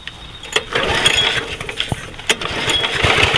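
A Snapper Big 6 Ninja lawn mower is pull-started on a brand new one-piece rope: a few sharp tugs and clicks, then the small engine sputters and catches into an uneven running rumble, close by.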